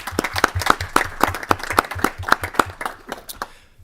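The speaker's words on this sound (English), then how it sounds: "Let's give both of these young people a round of applause." A small group in a Senate committee room claps for two young visitors, a short round of brisk, fairly even claps that thins out and stops after a few seconds, close and clear.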